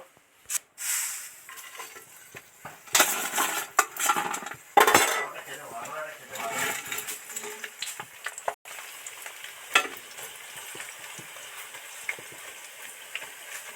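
Drumstick flower pakoras deep-fry in hot oil with a soft, steady sizzle. Sharp clinks and scrapes from a metal utensil against the pan break in at irregular moments, fairly close and with no talking.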